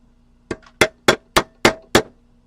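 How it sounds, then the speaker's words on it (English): A silver spoon ring is hammered against a metal mandrel: six sharp, ringing metallic strikes at an even pace, close and loud, each decaying quickly into near quiet. "I want to be able to just pound that a little bit harder against my mandrel"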